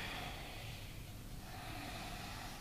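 A steady, breathy exhale during a yoga sun salutation, a soft broadband rush of air that fills the whole moment, close and continuous with no talk.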